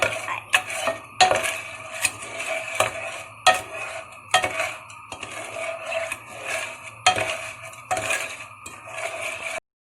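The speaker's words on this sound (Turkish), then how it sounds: "arkadaşlar burada bunun içine yağ koydum ben önceden. Böyle karıştırıyorum." Popcorn kernels stirred in oil in a pot, with a utensil scraping and clinking against the metal in a steady run of close, repeated strokes. Soft sizzling sits underneath, and no one speaks.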